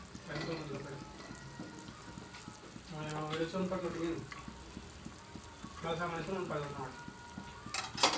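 Besan curry batter is stirred in a pan with a quiet, rhythmic run of scraping clicks and soft sizzling, while someone talks intermittently over it.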